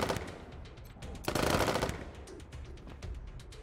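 Automatic gunfire in the post-apocalyptic tactical game Wasteland 3, a dense burst of rapid shots loudest around the middle, with scattered single shots and clatter before and after.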